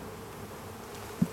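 Honeybees drone in a steady, low, continuous hum as a beehive is opened for inspection, with a brief close bump near the end and no voices.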